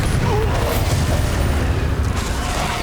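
A Bombarda spell explosion in Hogwarts Legacy, a loud, dense, rumbling blast with heavy low-end roar and crackling debris sustained across the moment, close and dominant.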